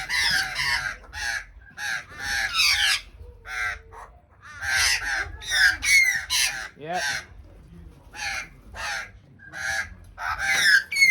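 Wild birds squabble over food being handed out, with dense bursts of loud, harsh caws and squawks coming in rapid overlapping clusters and short pauses between them. Someone briefly speaks.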